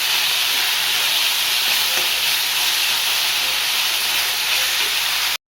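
Onions fry in a pan for a jackfruit seed cutlet masala, giving a steady, close sizzle and hiss that cuts off abruptly at the end.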